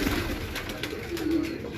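Racing pigeon cooing softly in a loft, a low steady coo repeated through the short moment with faint background noise.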